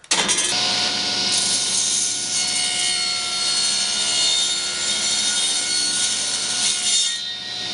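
A table saw on a miter sled cuts through wood, its blade whining loudly and steadily close by after a brief spin-up, then easing off as the cut ends; no talking.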